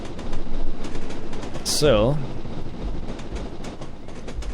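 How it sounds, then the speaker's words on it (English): Steam locomotive engine running in Train Simulator 2016, a continuous chuffing rumble with rhythmic mechanical clatter and a brief whistling sweep, while someone talks over it. "So you can actually hear the engine, the steam train engine,"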